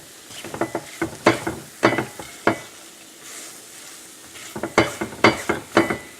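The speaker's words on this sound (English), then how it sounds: "we'll add the cardamom powder in at the same time and mix it all really well" Sticky date, fig and nut mixture with cardamom being stirred and pressed in a pan, a close run of soft rhythmic scraping and squelching strokes, pausing briefly midway before resuming.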